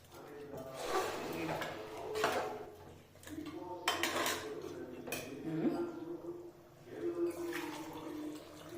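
Rice being stirred into cooked mutton in a pot for pressure-cooker mutton biryani, with repeated scraping and clinking of a spoon against the metal pot in uneven bursts, close and moderately loud, no talking.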